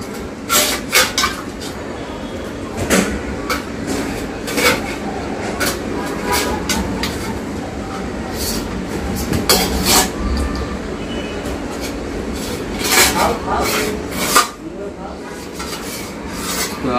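Fruit for an iftar meal rinsed by hand under running water in a home kitchen, a steady rushing hiss with scraping, rubbing clatter and occasional sharp knocks, while people talk nearby.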